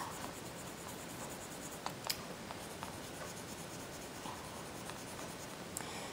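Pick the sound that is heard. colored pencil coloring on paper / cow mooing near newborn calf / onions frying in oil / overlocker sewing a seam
colored pencil coloring on paper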